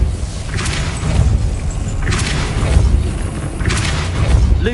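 Three deep, booming impacts of the Depulso spell in Hogwarts Legacy land roughly a second and a half apart, each a heavy thud with a short rushing burst, over a low rumbling background.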